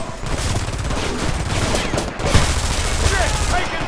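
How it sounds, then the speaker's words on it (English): Sustained close gunfire in the video game Homefront: rapid overlapping automatic shots and a heavy crack near the middle, forming a constant dense firefight with shouting voices mixed in. "Shit! Taking fire!"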